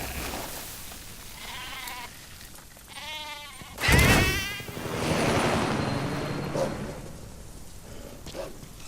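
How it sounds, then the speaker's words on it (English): A goat separated from its herd bleating in Metal Gear Solid V: The Phantom Pain, a few wavering cries close by, followed by a louder burst of noise and a lingering rushing, wind-like bed. "it looks like we have a goat here that's been separated from its herd"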